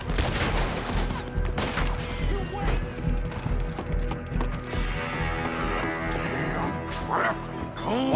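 Gunfire in the western video game Red Dead Redemption 2, scattered shots and volleys mixed with horse hoofbeats and game noise, under a player's talking.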